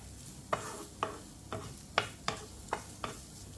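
Grated coconut being stirred in leftover sardine frying oil, with seven evenly spaced spatula scrapes against the pan over a soft, steady sizzle, close and fairly quiet.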